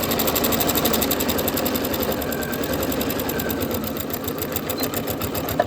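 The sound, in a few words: sewing machine stitching binding onto a table runner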